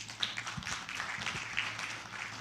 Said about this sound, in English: Big applause for all the participants.